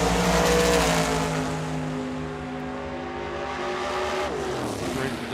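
A Camaro drag car launches down the strip at Tucson Dragway, its engine note loud at first, then settling into a sustained roar with rising harmonic tones as it pulls away.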